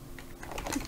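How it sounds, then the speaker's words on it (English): Quick, close keystrokes on a computer keyboard sound in a brief patter of light clicks while a formula is entered in Excel, with no voice. "In this formula, I'm going to type"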